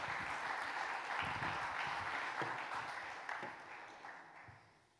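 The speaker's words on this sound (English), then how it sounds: "Give these guys a round of applause." A conference audience at a startup event gives a round of applause as volunteers step up to a table, a soft, fairly distant wash of clapping that gradually fades.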